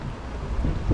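Wind blowing on a rainy day in Sidi Bel Abbès, Algeria, with flags flapping in it, heard as a steady low roar and rumble that buffets close to the microphone for about a second, with no voices.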